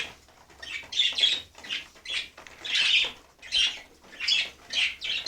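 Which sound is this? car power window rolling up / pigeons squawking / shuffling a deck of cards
pigeons squawking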